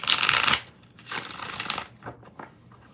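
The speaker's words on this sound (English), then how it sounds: "One more shuffle." Tarot cards are shuffled during a live reading, with three quick riffling bursts of crisp paper flutter, close and fairly quiet, with no talk over them.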